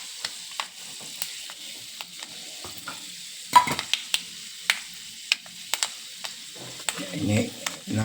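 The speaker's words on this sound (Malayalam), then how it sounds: "എണ്ണ ചൂടാകുമ്പോൾ 2 മണി കടുക് ഇട്ട് കൊടുക്കാം." Mustard and fenugreek seeds hit hot oil, giving sparse sharp pops and crackles spaced out over several seconds, followed by a soft scraping stir near the end, all quiet and close.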